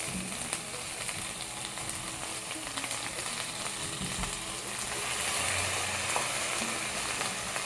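Chopped tomato pieces fry in a hot pan with a steady, close sizzle and crackle that swells slightly toward the end.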